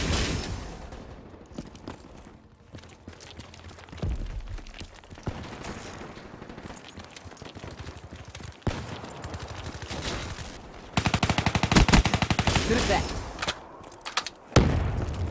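Hip-fired automatic gunfire in the Black Ops 3 beta shooter game, rapid bursts and fusillades repeating across the stretch, loud and dense, with the heaviest volleys near the end.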